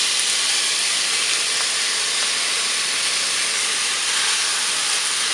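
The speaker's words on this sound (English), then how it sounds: "I will fry it just for a couple of minutes until the onion becomes soft" Onion frying in a pan for a couple of minutes until soft, a steady broadband sizzling hiss running continuously at even loudness throughout, close and with no voice.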